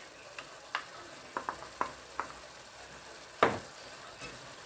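Shrimp paste is stirred into a frying pan of laing: a handful of light, sharp spoon taps and scrapes against the pan, spaced irregularly over a quiet, faint background, with one stronger knock near the end.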